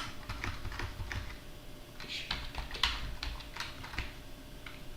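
Quiet, steady tapping on a computer keyboard, a run of soft keystrokes with a few firmer presses, over a faint background hum.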